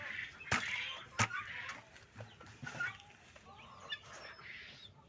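Caged guinea fowl on a farm give sharp, loud calls in two strong bursts, followed by softer scattered squawks and clucks, with faint background noise between calls.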